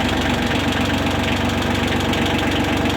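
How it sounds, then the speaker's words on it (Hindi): A VST Shakti 18 HP tractor engine idles close by with a steady, loud, knocking rumble and constant vibration, running alone without pause. "तो चलिए ट्रैक्टर को स्टार्ट करते हैं और साथ में आप इस ट्रैक्टर की साउंड भी देखना कितनी शानदार साउंड है।"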